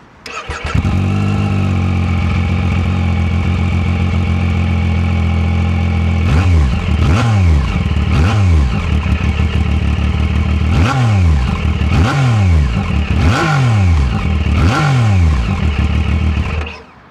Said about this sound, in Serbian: Iako ima fabrički auspuh, ova 3 cilindra prave fenomenalan zvuk,